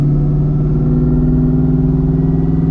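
Supercharged engine of a 1997 Ford Mustang Cobra running at a steady loud idle, a thick low rumble with a faint whirring blower spin layered over it, no voices.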